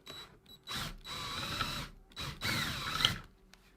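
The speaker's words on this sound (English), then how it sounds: "going to drill out or drill the rivet part that's mushroomed over the washer out" A power drill whirs in two bursts with a brief pause, grinding as it drills out a metal rivet on a snowshoe heel strap, close and fairly loud.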